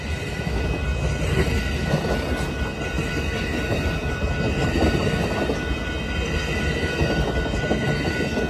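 An Amtrak California Zephyr passenger train, led by Union Pacific and P42 locomotives, rumbles past nearby departing for Chicago, a continuous heavy roar of wheels and engine with rhythmic clatter and occasional metallic squeal.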